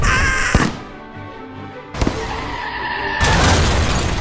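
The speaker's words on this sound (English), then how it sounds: "Let the firework display" Fireworks display in a Roblox video game: a sharp burst followed by crackling booms, then a second louder explosion and a sustained roaring blast near the end.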